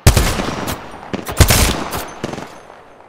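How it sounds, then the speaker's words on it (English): Rapid gunfire in the Apex Legends shooter game, loud bursts of automatic shots in clusters with brief gaps, fading toward the end. "They're shooting at me!"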